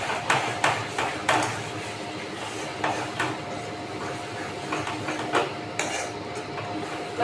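A spoon knocks and scrapes against a kadhai while gram-flour-thickened gravy for pakoda curry is stirred, producing irregular metallic clinks and taps over a soft bubbling background.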